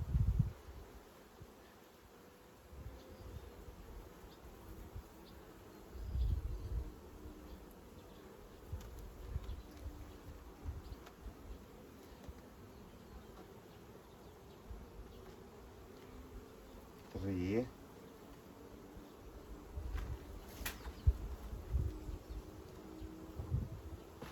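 Honey bees hum in a steady low drone around a hive being prepared for winter, with occasional closer buzzing passes and light handling noises.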